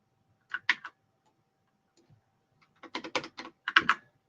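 A computer keyboard is typed on while code is edited: a short cluster of clicking keystrokes, a quiet pause, then a longer run of quick, close taps in a quiet room.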